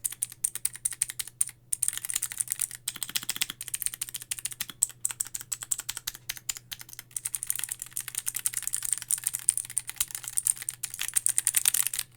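Rapid clicky typing on an Aula S6 mechanical keyboard with blue switches, close and crisp, steady bursts of keystrokes with brief pauses, no talking.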